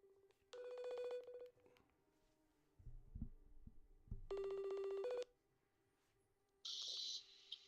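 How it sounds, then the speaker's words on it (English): Outgoing phone call ringing back on the line: three loud, evenly spaced bursts of ringback tone separated by pauses, with a brief low thump or handling noise between the first two rings and no talk. "All right, we're ringing him right now."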